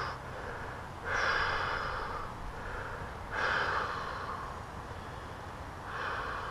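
Deep, slow breathing during a deep hip stretch, three long swelling inhales or exhales spaced a couple of seconds apart, fairly close and steady over a soft background hiss.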